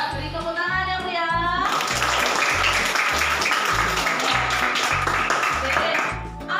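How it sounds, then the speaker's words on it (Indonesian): Schoolchildren applauding in a classroom, a loud burst of clapping that starts after a short stretch of talk and carries on steadily to the end, with a rhythmic low thumping underneath. "Beri tepuk tangan ya, Bu ya."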